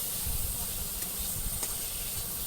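Chopped onion, chilli, garlic and turmeric sizzle in a kadai over a clay stove while being stirred, a soft, even hiss with faint scraping ticks, fairly quiet and close.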